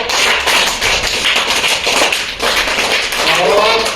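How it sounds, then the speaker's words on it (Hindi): A classroom of children claps in a quick, loud, ragged rhythm of many hands, close and continuous for several seconds, with a voice speaking over the clapping. "विदाउट ताली बजाएंगे सभी लोग।"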